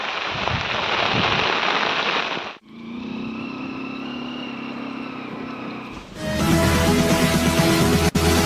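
Rain falling hard and steady, broken into three stretches with different tone, each a dense hiss of drops hitting surfaces, no voices.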